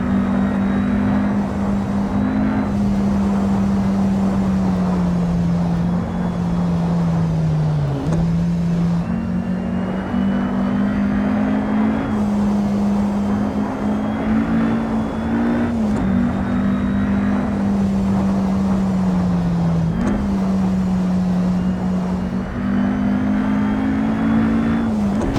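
Porsche 550A RS Spyder engine in the Assetto Corsa racing game on the Isle of Man circuit, a loud, steady droning engine note whose pitch rises and falls gently with throttle and gear changes, running alone for the whole stretch.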